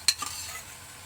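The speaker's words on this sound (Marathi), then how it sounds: "हे मी आपल्याला चांगलं असं मिक्स करून घ्यायचं तेलामध्ये कांद्यासंग" A spoon clanks once against the pan, then chili, ginger and garlic paste is stirred with onions in hot oil, giving a soft scraping swish over a faint sizzle, close and brief with no talk.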